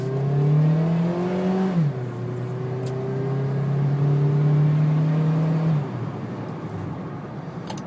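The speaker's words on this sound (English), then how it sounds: "after I turn here and then gun it" A 2012 Honda Civic engine revs up loudly while accelerating hard after a turn, shifts gear, then holds a strong droning pull before easing off near the end.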